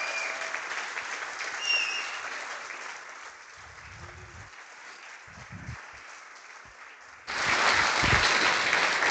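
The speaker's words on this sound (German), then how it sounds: "einen großen Applaus und für euch natürlich als Teilnehmer" Convention audience at a closing ceremony breaking into applause, quiet and distant at first with a few low thumps, then swelling into loud, close clapping for the final seconds.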